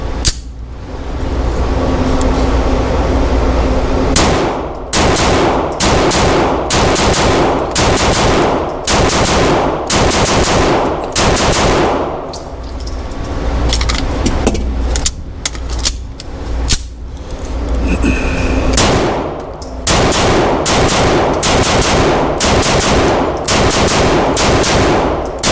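Rapid bursts of gunfire from a Sig Sauer P320 Flux Legion pistol fed from 23-round magazines, loud sharp shots fired in quick strings with a brief pause for a magazine reload partway through, outdoors with no talking.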